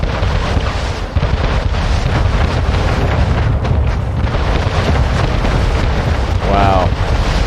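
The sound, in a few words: warship cannon fire in the video game Anno 1800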